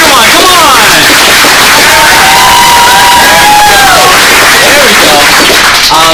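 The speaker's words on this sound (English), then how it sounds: "Can you give her a huge round of applause? Give her a" A large audience at a motivational speaking event breaks into loud, sustained applause mixed with cheers and whoops that fill the room without a pause.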